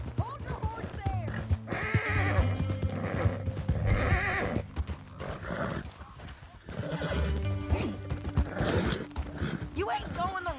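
Horse whinnies and hoof clip-clops from Red Dead Redemption 2, heard under steady game dialogue between men, with the horse sounds mixed in close behind the voices.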